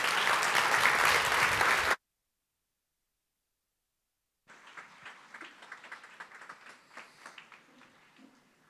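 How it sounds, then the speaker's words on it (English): Innovation showcase audience claps loudly for a couple of seconds, then a silent gap, then quieter, thinner clapping returns and trails off. "It's another round of applause for Nima Roohi, please."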